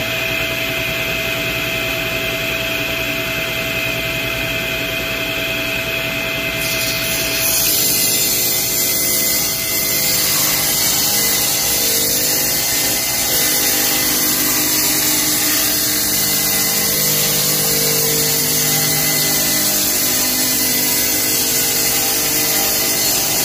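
A wooden board is ripped lengthwise on a power saw, run tight against the fence to trim it to width with an angled top edge; a loud, sustained motor whine with the cut's pitch shifting partway through, no voices.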